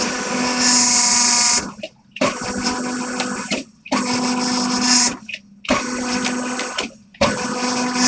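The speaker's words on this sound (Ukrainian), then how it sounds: "верстат для виготовлення вихлопних труб та корпусів каталізаторів" A metalworking machine that makes exhaust pipes and catalytic converter housings from stainless steel sheet, running in loud, close whirring bursts of about one and a half seconds, each broken by a short silence, with no talk.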